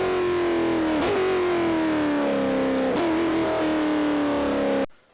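Audi Sport Team Joest R18 TDI diesel Le Mans race car from 2011 in Forza 4, its engine holding a steady droning tone that sags slightly with two brief gear-change dips before cutting off abruptly.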